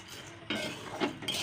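Spatula stirring dal and rice as they dry-roast in a pan over low gas, a few soft scraping and metallic contact sounds against a quiet background.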